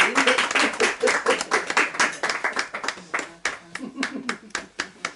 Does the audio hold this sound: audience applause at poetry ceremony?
yes